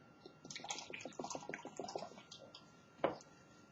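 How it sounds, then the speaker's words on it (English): Kangen water poured into oil in a small container, a faint close splashing and gurgling trickle lasting a couple of seconds, followed by a single sharp knock. "So, let's pour this in here."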